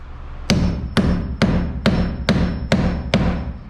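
Eight evenly spaced, sharp hammer blows drive a metal protector plate onto a wooden wall stud in a self-built SIPs house, each strike loud and close with a ringing metallic edge and no talk.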